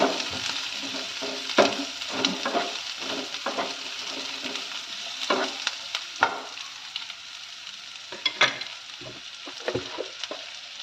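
Onions fry in hot oil with a continuous sizzle, broken by frequent stirring scrapes and clicks of a spoon against the pan while cooking spinach karam.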